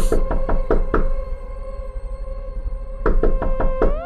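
Two bursts of rapid knocking, five or six sharp raps each, separated by a short pause, close and fairly loud against a low steady hum.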